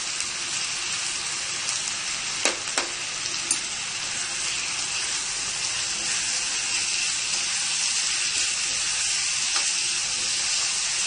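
Tomato and tomato paste sizzling in a pan with sauteed onions for vegetable pasta sauce, a steady bright frying hiss throughout with a few faint clinks, no talking.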